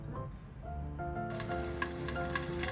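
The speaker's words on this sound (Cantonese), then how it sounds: "平底鑊落油，將漢堡扒全部擺入去，再開火，冚蓋。" Beef burger patties fry in oil in a covered pan, their sizzle starting faint and swelling into a steady crackling hiss after about a second, with no voices.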